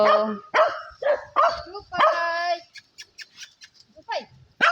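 A dog on a farm by a small hut barks in a quick series of sharp, close, loud barks over the first few seconds, then softer yips and whimpers follow before one last bark.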